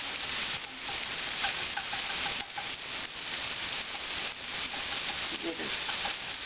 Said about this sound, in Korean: 파하고 마늘을 볶고